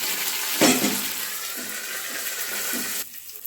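Chilies and curry leaves frying in a pan while being stirred, a steady loud sizzle with a sharp scrape near the start that cuts off abruptly toward the end, no speech.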